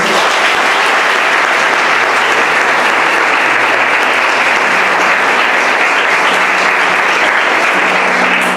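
A church congregation applauds in praise, a loud, dense and unbroken roar of clapping that holds steady throughout, with a faint sustained musical tone underneath.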